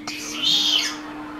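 A pet alexandr rudohlavý parrot gives a single bright, whistled chirp that rises and falls over about half a second, loud and close in a quiet indoor room.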